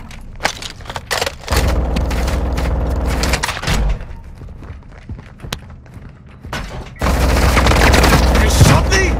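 Heavy gunfire in Call of Duty DMZ, with sharp single shots early, a booming sustained burst through the middle and a loud renewed barrage near the end, with game voices between the shots.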